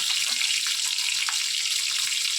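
Chilies fry in hot oil for a lentil dal, a constant bright hissing sizzle, fairly loud and close, with faint utensil taps and no voices.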